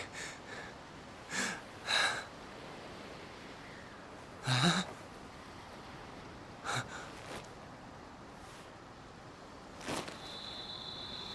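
Unconscious Fiora breathing in Xenoblade Chronicles, several soft, irregular gasping breaths and snorts spaced seconds apart over a quiet background.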